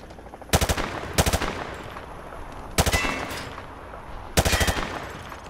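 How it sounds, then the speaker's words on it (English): Automatic gunfire at range targets in Call of Duty Modern Warfare 2 (remastered), heard as four short, loud bursts of rapid shots separated by brief pauses, with no talking. "Grab that weapon off the table and fire at the targets behind you"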